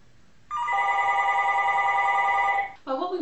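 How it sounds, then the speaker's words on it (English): A telephone rings loudly during a conference call, with one sustained electronic ring tone that cuts off, followed by the start of a second ring. "Hopefully someone will pick that phone up, or just halt for 1 second."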